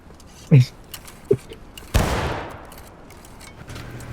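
A volley of rifle fire rings out during an infantry shooting drill, a sharp crack followed by another shot and then a long rolling report that decays slowly, with outdoor murmur in the background.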